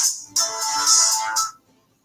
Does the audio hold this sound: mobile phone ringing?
yes